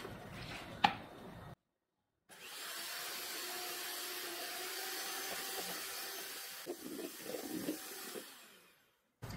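An electric mixer beats egg whites toward soft peaks for a cake batter, a steady close whirring drone running for several seconds after a brief clatter and pause.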